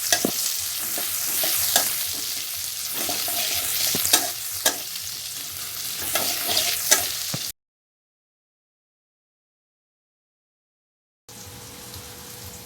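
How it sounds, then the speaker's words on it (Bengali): Chopped onions frying in hot oil in a pan, a close, steady sizzle with repeated sharp stirring clicks for several seconds, then a gap of silence before a softer sizzle resumes; no talk. "এবার সেই কুচনো পেঁয়াজটা দিয়ে দিলাম তেলে"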